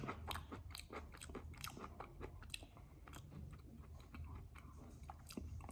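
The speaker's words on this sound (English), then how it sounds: "Let me bite on the skin, see how the skin tastes." Repeated crisp bites and wet chewing on the skin of a Phoenix mango, close up, in a steady crunching rhythm with no talk.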